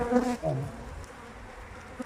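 Honey bees buzz around an open hive in a beekeeping yard, a steady faint insect hum with a louder burst near the start.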